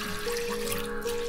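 Water poured onto lentils that were washed twice for a Tamil keerai kootu, a steady close splashing pour lasting about a second with no talking.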